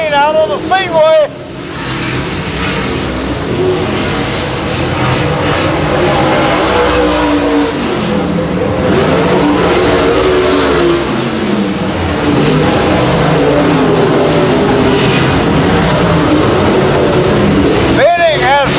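Race cars circling Bethany Speedway, a dirt oval in Bethany, Missouri, a dense continuous engine roar with passing surges, under a track announcer's steady commentary.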